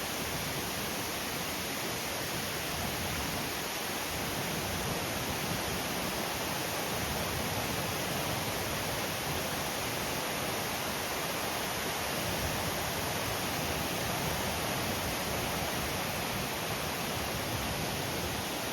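Water flows over orange rocks in a steady, unbroken rush, loud and close, with no pauses or voices.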